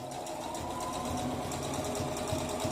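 A sewing machine runs continuously while stitching sweatpants, a steady rapid mechanical whir and knocking rhythm, close and fairly loud throughout.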